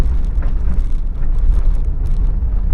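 A van rattling and rumbling as it drives over a rough, bumpy road, with steady low road noise and continuous loose vibrations close to the microphone and no one speaking.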